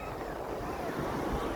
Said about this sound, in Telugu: అదిగో అల వస్తుంది